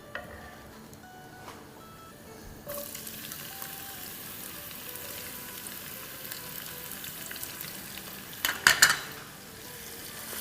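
Halved medium onion, cut thin, dropped into hot oil with whole spices for a potato curry, a steady soft sizzle rising suddenly and continuing, with a brief clatter of stirring near the end.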